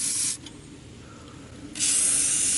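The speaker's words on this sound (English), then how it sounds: "I'll just spray it all." WD-40 lubricant sprayed onto a sway bar bolt under a car, two loud hissing bursts of aerosol spray, one short at the start and a longer one at the end, close to the microphone.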